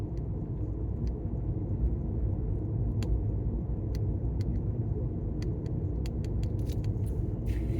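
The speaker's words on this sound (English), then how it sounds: "Well, I'm driving 37 miles an hour." A car cruises along a road at about 37 mph, giving a steady low engine and tire rumble inside the cabin, with scattered light clicks and rattles over the drone and no speech.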